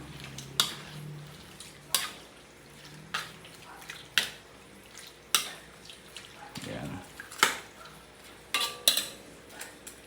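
A spoon stirs soy sauce into spicy chicken adobo in a pan, with sharp scrapes and clinks against metal at roughly one-second intervals over a quiet background, and a voice speaks between the strokes.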